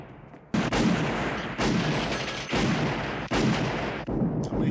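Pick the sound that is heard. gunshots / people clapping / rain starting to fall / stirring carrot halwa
gunshots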